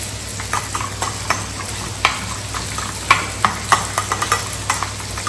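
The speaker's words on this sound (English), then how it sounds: "Give it a good mix." Chicken wrap filling sizzles steadily in a pan while a utensil stirs and scrapes it, with irregular knocks and clicks against the pan over a continuous close fry hiss.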